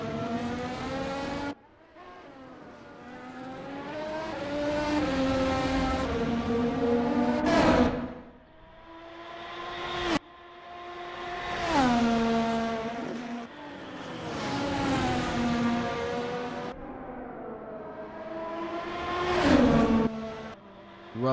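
Race cars lapping in a qualifying session at the Semanggi Interchange circuit, their engines rising and falling in pitch as they accelerate, shift and pass one after another, loud and continuous with no talk.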